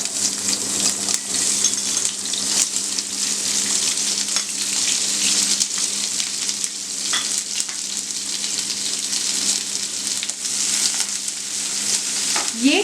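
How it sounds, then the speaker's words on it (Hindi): Onions sauté in hot oil with a bright, steady sizzle close by, broken now and then by a stirring scrape, and no voices. "और इनको मैं इसमें सॉटे करूंगी टिल गोल्डन ब्राउन, जब तक एक अच्छा सा गोल्डन कलर ना आ जाए।"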